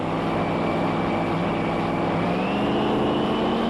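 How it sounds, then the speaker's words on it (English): Drag racing cars at the start line of a drag strip, a loud sustained engine roar with rising and shifting revs, close and continuous throughout, with no talk over it. "Just listen to the horsepower and the revs of these machines."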